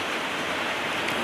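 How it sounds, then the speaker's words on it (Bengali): Heavy rain and strong wind during Cyclone Remal make a dense, continuous roar of falling water, loud and steady without a break. "হাওয়া যেরকম দিচ্ছে সেই সাথে বৃষ্টি হচ্ছে"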